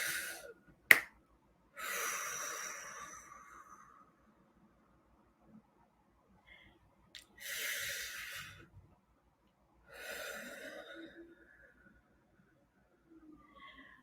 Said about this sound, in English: I'm going to use my hands to scoop the air around me as I take in that big deep breath.